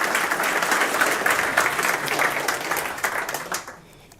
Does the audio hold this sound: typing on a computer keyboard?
no